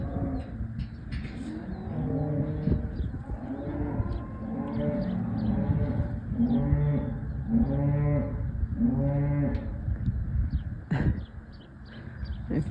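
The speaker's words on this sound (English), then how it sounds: "If you can hear the other ones mooing" Several loud, drawn-out moos from dairy cows waiting to be let out, in a steady sequence, close by, with birds and faint outdoor background noise beneath.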